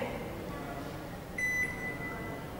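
A built-in microwave oven, model GL 672, gives a single clear electronic beep tone that holds for about a second. The beep sounds over a quiet room background.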